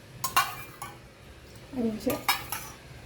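Metal cooking pot being picked up and handled in a home kitchen, a few sharp clinks and clatters in short bursts with quiet gaps, close and moderately loud with no one talking.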